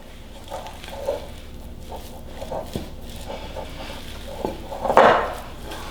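A spoon scrapes and knocks against a mixing bowl as zucchini bread batter and flour are stirred together, with scattered soft clinks and one sharper clatter near the end, and no talking.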